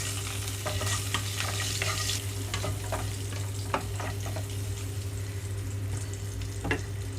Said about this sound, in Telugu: ఇక్కడ ఉడికించి పెట్టుకున్న గుడ్లు కొద్దిగా వేయించుతున్నాను.